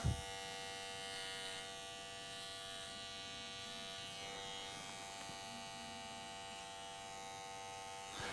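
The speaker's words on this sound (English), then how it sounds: "So once we get that line, then we shave to it. We don't want to drag that clipper down." An electric hair clipper buzzes steadily and close while cutting short straight hair in a men's fade, its tone holding even throughout with faint shifts as it moves.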